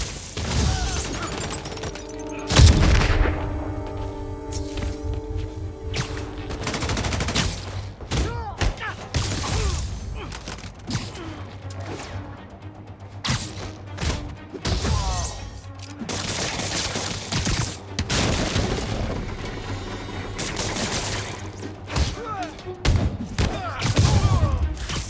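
Enemy gunfire in the Marvel's Spider-Man Remastered video game: bursts of shots and thuds crackle through a busy mix of game music and effects, with a sharp loud hit early on and scattered volleys throughout.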